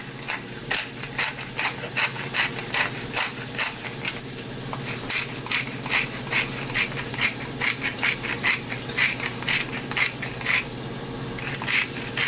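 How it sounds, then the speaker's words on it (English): A hand-turned IKEA pepper mill grinding black pepper makes a rapid, close run of gritty crunching clicks in quick repeated bursts, fairly loud and continuous, with no talking. "I just got freshly ground black pepper. I got those pepper mills at IKEA."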